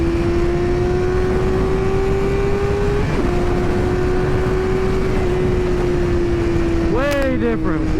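A 2023 Suzuki GSX-R600 motorcycle cruising at 80 mph in third gear in B mode: a loud, steady engine drone holds one pitch under rushing wind for the whole stretch, wavering briefly near the end.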